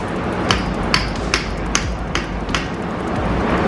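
Sharp metallic hammer blows on an old axle land one after another at a steady pace, six or so strikes ringing out over a low background hum.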